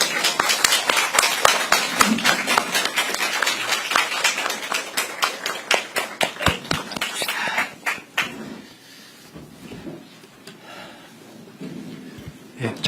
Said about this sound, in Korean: 모두 일어나셔서 큰 박수로 맞이해 주시기 바랍니다